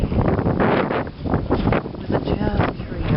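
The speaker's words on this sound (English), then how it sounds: "It's been a very windy day" Gusty wind on Charles Bridge in Prague buffets the microphone in heavy low rumbling surges, with someone talking over it throughout.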